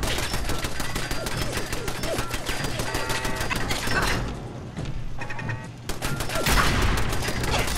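Gunfire aimed at the player in Fallout 4 rattles in rapid, loud bursts of shots with mechanical clatter, briefly thinning in the middle before resuming hard, with no speech over it.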